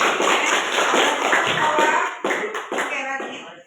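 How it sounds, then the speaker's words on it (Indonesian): An eighth-grade English class applauds a student named Ella, giving a dense burst of clapping from many hands that fills the room, then thins out and breaks off in uneven stops. "Kasih tepuk tangan dulu untuk Ella."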